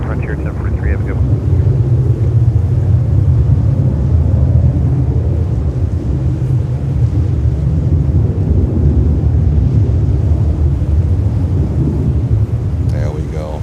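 Boeing 737-800 jet at JFK airport, a steady loud low roar of engines that holds for the whole stretch, with rumbling broadband noise and wind buffeting, while a voice talks underneath.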